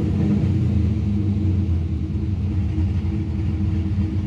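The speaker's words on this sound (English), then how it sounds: "So let's do a quick little snap throttle here." A car engine with an electronic throttle plate during a snap throttle, giving a steady, loud low rumble that holds throughout without much rise.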